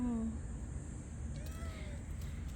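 A cat gives a faint, short meow outdoors on a chili pepper farm, heard against a quiet background of low farm ambience.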